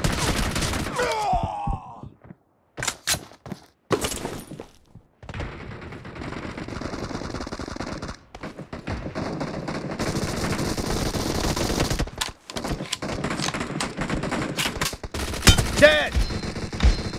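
Gyro-stabilized gun fire in a video game: loud, close bursts of gunfire come in repeated volleys with brief gaps, alongside game sound effects and a groaning voice.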